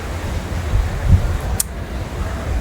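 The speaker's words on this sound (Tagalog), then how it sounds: "Mahangin masyado." Strong wind blows across an outdoor vegetable plot where sweet potato is being planted, a steady low roaring rumble with gusty surges and a brief faint high whistle.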